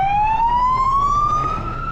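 A police car siren wails loudly and close by on a street near a bus stop in New Zealand, one long rising tone holding steady over a motor rumble, with no voices.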